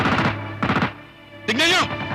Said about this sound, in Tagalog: Putok yun ah!